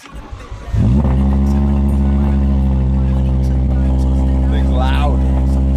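A car engine starts and settles into a loud, steady roar, held close and constant for several seconds; a stripped, wrecked car with airbags disabled and parts hanging loose.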